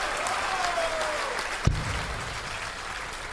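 Darts crowd at the 2016 BDO World Darts Championship applauding a 174 score, a steady wash of clapping and cheering with one sharp thump partway through.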